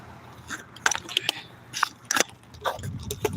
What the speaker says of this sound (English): Yeah, I got a clicking sound going on.